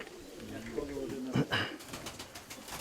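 Young pigeons coo softly close by in a loft, with a few low, rolling calls and brief fluttery bursts, while people talk quietly nearby.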